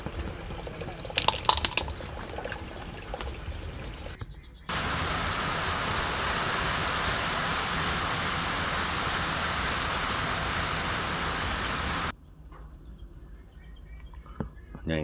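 Clams cook in a wok in their own liquid with no added water, giving a steady loud hissing sizzle like rain for several seconds, with quieter clatter before and after.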